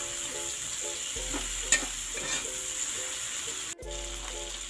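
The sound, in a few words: chicken added to the pan for chicken afritada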